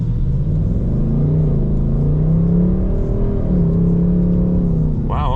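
A 2025 Ford Mustang GT pulls away briskly from a stop sign in normal mode, a steady, loud low engine rumble building and shifting pitch for several seconds, heard from inside the car with no talking.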